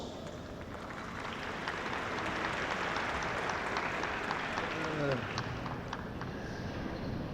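An audience claps at a congress in a large hall, a dense, steady wash of applause that goes on for the whole stretch, with faint voices now and then.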